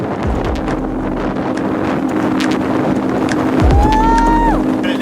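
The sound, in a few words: squall wind as sailboat rips through water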